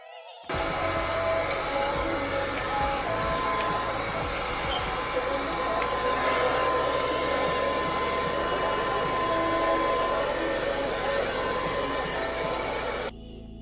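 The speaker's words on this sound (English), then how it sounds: "Now we're gonna blow dry that." A hair dryer blows on a wig stocking cap held down with Got2b Glued spray, making a loud, continuous airy whoosh close by that starts abruptly and runs steadily for about twelve seconds before cutting off.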